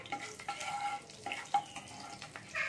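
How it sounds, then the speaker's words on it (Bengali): Salt and turmeric are stirred into hot oil in a pan. A faint, quiet sizzle runs under a few soft scraping strokes and light utensil taps. "দিয়ে একটু ঘেঁটে নিচ্ছি আমি তেলের সাথে।"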